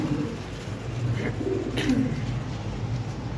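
Soft pigeon cooing low in the mix, a few murmuring coos from a large female pigeon over a steady background hum.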